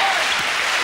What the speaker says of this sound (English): Defense screams the crowd.